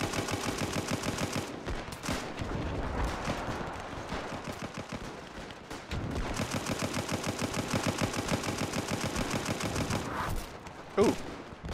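Dense gunfire rattles through a WW1 video game battle with German Empire troops, rapid volleys and machine-gun bursts sounding continuously for most of the stretch, with a short lull near the middle and a louder shot near the end.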